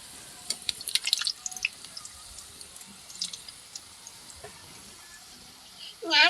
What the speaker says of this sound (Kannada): ಅದಕ್ಕೆ ಮೂರು ಹಾಕ್ಕೊಂಡು ಹುರ್ಕೊಂತ ಇದೀನಿ